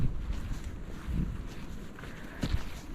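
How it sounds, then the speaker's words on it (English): Wind blowing across a hiking trail on the Appalachian Trail, a steady close rumble and buffeting against the microphone, with faint footstep-like thumps and gusts rising briefly. "It's warm today, but that wind feels nice. It's like a cool breeze."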